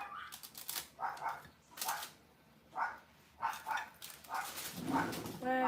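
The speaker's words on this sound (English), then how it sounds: "The dogs are barking." Dogs bark repeatedly at a distance, a series of short yaps in uneven bursts, muffled and moderately faint.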